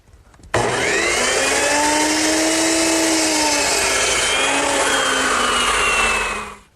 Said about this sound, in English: So we'll do that over at the miter box